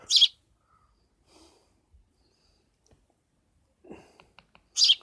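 A baby sparrow gives short, high chirps, one at the start and one at the end, close and clear, with faint rustling and handling noises in between.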